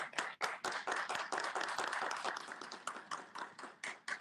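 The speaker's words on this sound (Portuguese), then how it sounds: "Uma salva de palmas para ela." Applause from a university debate audience at UFSC for a guest speaker, the director of the law sciences centre, dense claps sounding steadily close throughout with no talk over them.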